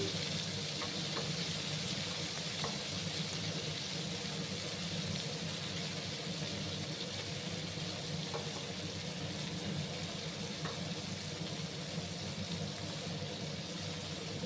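Bitter gourd frying in a pan makes a steady, close sizzle that holds evenly throughout, broken by a few faint clicks of stirring.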